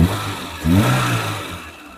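A Wagon R LXi car engine idles close by, then revs up in one brief rise in pitch and eases back down to idle.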